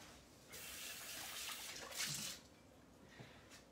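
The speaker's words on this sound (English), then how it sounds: "Let me rinse this out." Tap water runs into a measuring cup being rinsed in a kitchen sink, a soft, steady splashing stream with a brief louder gush near the middle, fairly faint and with no talking.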